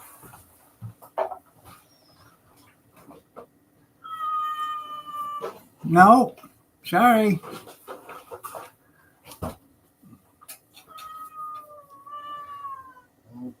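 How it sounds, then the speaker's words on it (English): A cat meows up close several times in drawn-out, wavering cries, the loudest in the middle, with brief speech and other quiet sounds around the calls. "Oh, okay, she can meow."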